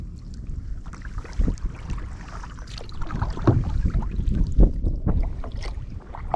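Wind gusts buffet the microphone while kayaking on the Murderkill River at Killens Pond, loud low rumbling bursts mixed with paddle and water splashes, uneven and close.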